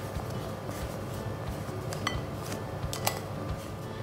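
A spoon clinks and taps against a bowl while flour, sugar, baking powder and instant coffee are stirred together, with a few sharper chinks over a soft, continuous scraping background.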